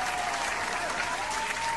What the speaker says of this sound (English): Clap, I'm trying to clap